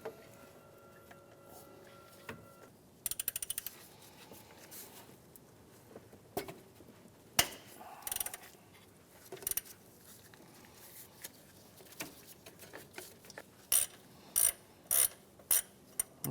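A ratchet works the top 12 mm alternator bolt loose on a 2003-2011 Honda Element, with clicking pawl runs and metallic clanks, ending in several sharp, evenly spaced ratchet bursts.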